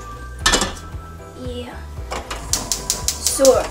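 A cooking pot set down on a home stove in a Korean kitchen, giving a few metallic clanks and clinks of cookware and utensils, close by, with voices talking around it.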